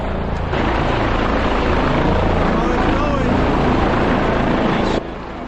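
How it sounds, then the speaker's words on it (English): A helicopter's rotor and engine roar loudly and steadily, broadband and close, as it lands at a mountain hut, continuing for several seconds before dropping off abruptly near the end. "There's a helicopter landing at the hut."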